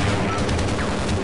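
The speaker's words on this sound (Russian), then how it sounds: "О, всех расстреливает." Dense, continuous machine-gun fire rattles without a break in the video game Half-Life, loud and close, a brief burst of unrelenting shots.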